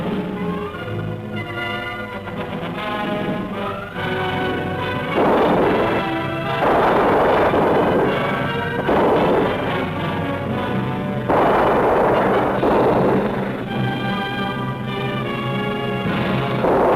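Antiaircraft guns fire volleys at a desert range, heavy repeated blasts booming in bursts every few seconds over a constant rumble.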